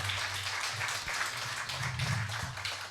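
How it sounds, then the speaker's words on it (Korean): Audience applause at the close of a Korean philosophy and humanities forum lecture, a steady broadband wash of clapping lasting throughout, with a low hum and faint murmur underneath. "박수 부탁드립니다"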